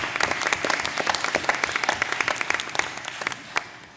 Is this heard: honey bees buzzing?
no